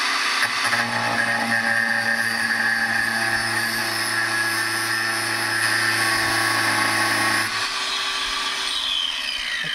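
A battery-powered saw cuts steadily through material outdoors, a loud continuous whining drone with a constant pitch that holds for most of the stretch, then eases down near the end.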